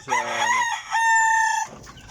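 Backyard pet chickens and gamecocks kept for breeding, one rooster crowing loudly up close in a strained two-part call, with faint clucking and farmyard background afterward.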